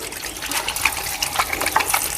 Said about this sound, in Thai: เรามาล้างมือนะครับ